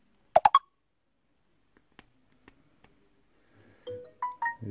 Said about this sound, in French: on entend déjà le bruit de Samsung